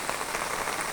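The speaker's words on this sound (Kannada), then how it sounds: "ಬೆಳಿಗ್ಗೆಯಿಂದ ಇರಲಿಲ್ಲ ಮಳೆ, ಇವಾಗ ಬರ್ತಾ ಇರೋದು ಮಳೆ." Steady rain patters on surfaces around a house beside a swollen, fast-running stream, a dense, even hiss of drops lasting throughout, fairly loud and with no voices.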